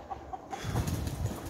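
Roosters clucking in a short burst, a few brief calls followed by a denser stretch of louder, close clucking and fowl noise.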